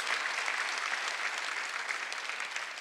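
A church congregation at a Sunday worship service claps together in a steady, even wash of applause, moderately distant and sustained without a break.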